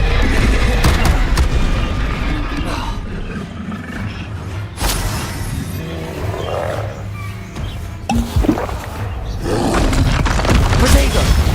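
Confringo and Bombarda spell blasts in Hogwarts Legacy boom and crackle in loud bursts over a busy, roaring combat backdrop, with shouted incantations among the noise.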